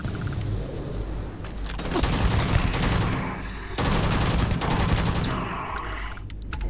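Rifle gunfire in Starfield, bursts of fairly loud shots and booming rattles, broken by a brief lull near the middle before the firing resumes.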